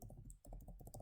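Rapid keystrokes on a computer keyboard while typing text in a word processor, a quick irregular clatter of clicks with a brief pause midway, close and clear with no talking.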